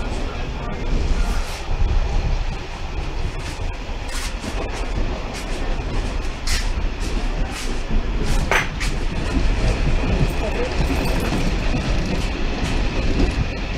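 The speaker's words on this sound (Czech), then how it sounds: "Takže tamhle jede nákladní vlak." A freight train passes near a railway line between Neratovice and Mělník in Czechia, a loud continuous rumble with wheel clatter and rattling wagons over about fourteen seconds, with passing voices in the background.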